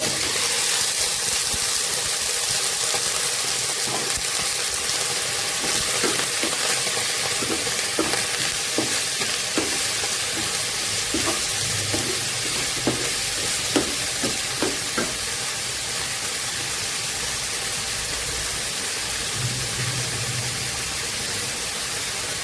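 Finely sliced bottle gourd fries in a pan for Bengali lau shukto, a steady loud sizzle running throughout with occasional stirring scrapes and taps, no talking.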